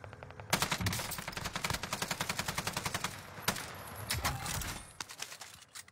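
Automatic gunfire in the Warzone video game, rapid rhythmic bursts of rounds spanning several seconds with a few sharper isolated shots, loud and close, no talk.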